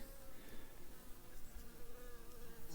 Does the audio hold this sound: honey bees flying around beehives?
yes